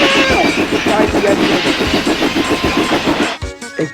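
A train in an animated story lurches and rolls downhill, its wheels giving a loud, steady clatter with rumbling under a busy mix that cuts off sharply near the end.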